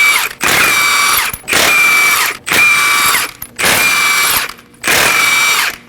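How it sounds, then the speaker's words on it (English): An impact wrench with a 21mm socket spins off lug nuts in five loud, rhythmic bursts, each a high whirring rattle with short pauses between, close up and with no talking. "Using a 21mm socket, we're going to go ahead and remove the lug nuts."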